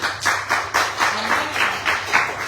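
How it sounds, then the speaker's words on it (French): A church congregation claps in praise, a fairly faint, roughly rhythmic series of hand claps in unison, about four per second, with a low background hum. "on peut applaudir le Seigneur"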